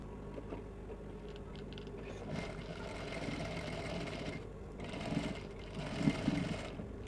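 Sewing machine stitching fabric close up, a soft continuous mechanical whir with rapid needle patter that swells in short bursts, quiet and without talk.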